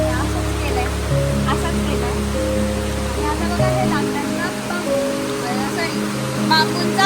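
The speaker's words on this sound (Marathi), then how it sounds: "माझा आवाज येत नसेल कारण इथे पाण्याचा आवाज" Rushing water at Devkund waterfall in Maharashtra makes a loud, unbroken broadband roar, with a person talking over it throughout.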